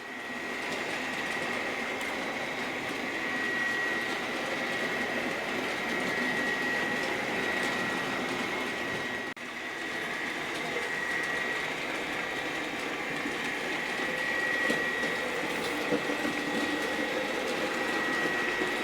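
A Bachmann Class 570 model locomotive, number 57007, runs along a model railway track. A steady mechanical whir and rumble carries a faint high-pitched electric whine and continues evenly for the whole stretch, with a brief dip partway through.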